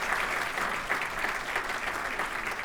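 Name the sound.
applause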